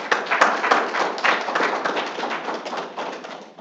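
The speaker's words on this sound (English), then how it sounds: "Give them a round of applause for me." Steady applause from a crowd at a Georgia Game Developers Association event, many hands clapping at once in a dense, continuous patter that gradually eases off.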